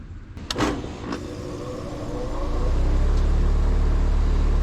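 An air conditioner fitted with an ICM870 soft start kicks on after a time delay, a low rumbling hum swelling steadily and holding loud and constant after a few faint clicks.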